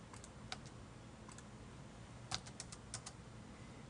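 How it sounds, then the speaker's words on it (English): Typing on a computer keyboard, a quiet run of scattered key clicks with irregular rhythm, including a quick cluster of taps near the middle, close and alone. "then I'm ready to type my message"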